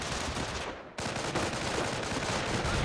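MG42 machine gun in the Company of Heroes battle game, firing dense continuous rattling bursts amid general battle noise, with one brief dip in the sound, and no speech.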